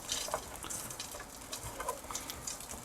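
Sausages with shallow knife scores frying in a pan of oil for a stir-fried sausage and vegetable dish, giving a faint, steady patter of crackling and sizzling pops with no talk.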